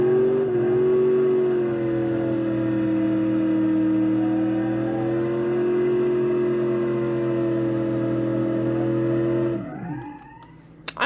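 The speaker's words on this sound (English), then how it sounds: "I really like the sound of the old engines better in this game." An old car engine in BeamNG.drive drones at a steady pitch for several seconds with a buzzy, harmonic tone, then drops away abruptly near the end.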